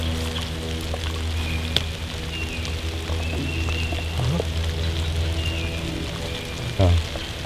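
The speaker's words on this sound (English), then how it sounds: "Starting to drizzle a little bit" Light drizzle falls outdoors in a field during a youth turkey hunt, a steady soft patter of raindrops on surfaces running throughout with a faint low hum beneath.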